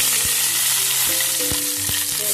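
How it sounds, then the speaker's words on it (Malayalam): Mustard seeds splutter in hot coconut oil in a pan, a loud, close, steady sizzle broken by several sharp pops and crackles, with no voices. "അല്പം കടുക് പൊട്ടിക്കാം."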